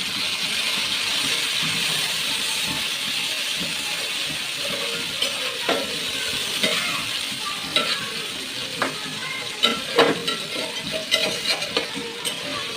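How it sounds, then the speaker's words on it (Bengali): Onion, garlic and ginger fry in a pan with a loud, continuous sizzle, joined by frequent scraping and clattering stirs that grow busier toward the end, with no voices. "এখন দিয়ে দিব পেঁয়াজ রসুন আদা সব এতে একটু ভালো করে ভেজে নিব যাতে কাঁচা গন্ধটা চলে যায়"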